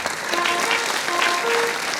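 Applause from a concert audience at an accordion performance in Koprivnica, a dense, steady burst of clapping across the room with a few faint voices and tones over it.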